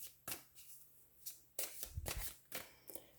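Tarot cards are shuffled by hand in several quick riffling bursts, soft papery flutters and taps separated by short pauses, close and fairly quiet.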